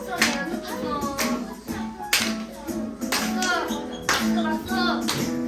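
Children at an elementary Sunday school church service clap along in rhythmic bursts, mixed with singing and voices.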